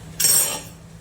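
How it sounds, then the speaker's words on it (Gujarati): A metal spoon knocks against a bowl once while churma ladoo mixture is stirred, a single bright clink that rings briefly and fades in a quiet kitchen. "પહેલાં થોડી વાર ચમચાની મદદથી મિક્સ કરવાનું."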